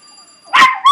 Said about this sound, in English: Raj, quit barking